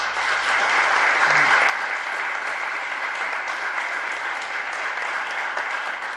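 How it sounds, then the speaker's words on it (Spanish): Audience applause at a tribute recital held in a casino hall, a broad steady clapping from many hands that fills the room, slightly louder at first and then continuing evenly throughout. "estarás sintiendo y escuchando los sinceros y emotivos aplausos que hoy, con alguna que otra lágrima en los ojos, muchos de nosotros te dedicamos"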